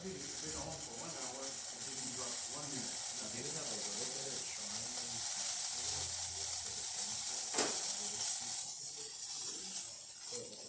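A Gaggia Accademia espresso machine's steam wand hisses steadily at close range, a constant high spray under intermittent mechanical clicking and low muttered speech.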